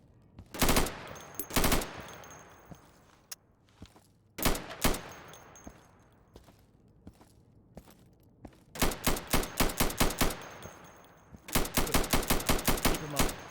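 Rifle fire at plywood-covered targets in Insurgency: loud single shots and paired shots at first, then quick rhythmic bursts of rapid fire, each shot a sharp crack with a brief echo.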